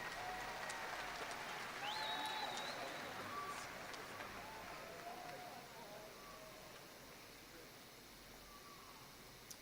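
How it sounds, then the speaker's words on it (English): A graduation ceremony audience applauds in a large hall at Ryle High School, a steady wash of clapping with faint crowd murmur and stray tones, holding fairly even before slowly tapering off. "There's a round of applause for that."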